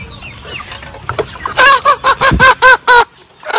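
Chickens cluck and squawk close by in a rapid burst of loud, repeated calls after a quieter start of scattered clucks.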